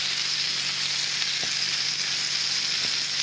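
Bacon sizzles steadily in a pan over medium heat as a topping for hors d'oeuvres, a dense continuous frying hiss with a couple of faint pops, close and alone without talk.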